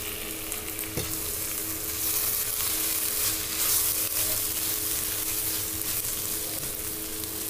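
Masala with garlic-ginger paste for Punjabi chicken curry fries over full flame. It gives a loud, unbroken hiss and sizzle from start to end, with one small clack early on.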